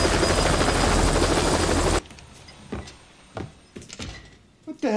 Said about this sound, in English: a helicopter comes in and almost lands on the dig site